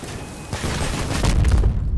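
Rocket launcher blast slamming into the player's vehicle in a combat video game, a dense burst of booming impacts and crackling debris that stays loud and close for about two seconds, with no talk over it.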